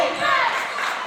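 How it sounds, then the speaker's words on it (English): A home crowd at a high school boys varsity basketball game at Mamaroneck chants defense late in a close game, a loud, sustained massed roar of voices filling the gym. "Mamaroneck crowd chanting defense."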